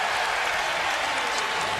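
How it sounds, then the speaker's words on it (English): A basketball arena crowd roars and applauds during an NBA game, a dense, sustained wash of cheering that fills the whole moment at steady loudness, with no clear speech on top. "James gets the crowd on its feet"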